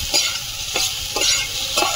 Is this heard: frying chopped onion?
yes